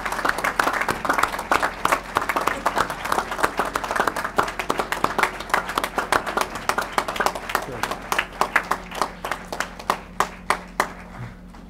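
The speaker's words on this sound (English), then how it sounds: "I think we should just all give a good round of applause right off the top to our" An outdoor crowd at a bridge dedication ceremony applauds the National Guard, steady dense clapping that gradually thins to a few scattered claps toward the end.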